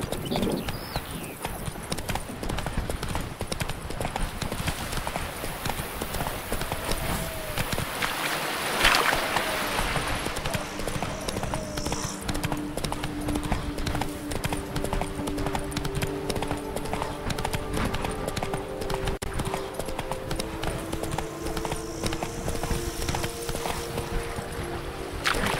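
Horse hooves clip-clopping in The Witcher 3, a steady rhythmic patter running the full length at moderate level over an ambient game backdrop of low drones and faint water-like wash.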